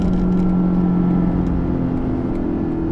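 A Porsche Panamera 4 E-Hybrid surges forward on a boost button press, its engine giving a loud, steady droning roar with a strong low hum that holds evenly throughout, no talk over it.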